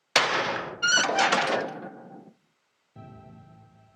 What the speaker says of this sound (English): The third sound is a creaking effect sound.